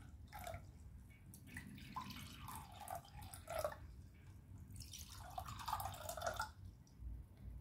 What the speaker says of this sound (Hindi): पहले हम इसमें पानी भरते हैं इक्वल